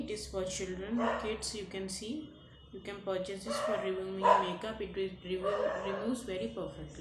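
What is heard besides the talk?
dog barking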